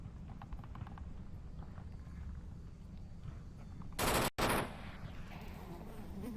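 Gunfire in the VR shooter Onward during a competitive match: a short, loud burst of shots cuts through a low, steady background rumble, then stops abruptly.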